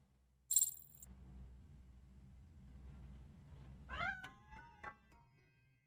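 A cat meows a few times at middling distance in the video game RoboCop Rogue City, short plaintive cries near the end after a quiet ambient stretch, with a faint insect-like chirp and a brief high tone earlier.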